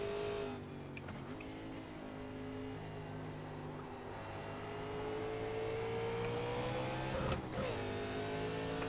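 A 1987 NASCAR Legends race car engine at Watkins Glen in iRacing, droning steadily at a fairly constant pitch that rises slightly, with a couple of brief whooshes as the car passes other cars.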